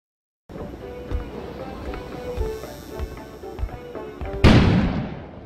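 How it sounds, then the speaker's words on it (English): A sudden loud explosion bursts outside near the end, with a long decaying roar, after a stretch of low rumbling ambience dotted with dull thuds. "An explosion suddenly occurred outside."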